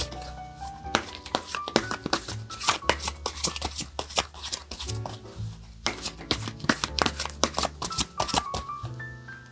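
Tarot cards are shuffled in soft, quick riffles and taps that repeat in uneven bursts over gentle background music, close and quiet.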